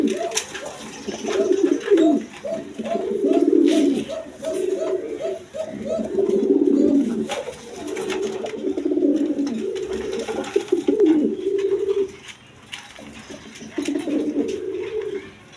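A male high-flying Giribaz pigeon coos in repeated rolling phrases, loud and close, with a short pause partway through and a faint voice or two in the background.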